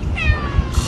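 A tabby cat gives a single clear meow close by, rising and then falling over under a second, with no talking.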